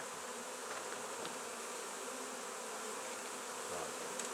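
A dense swarm of honey bees drones continuously at close range as the bees are moved into a nuc box at an engine museum.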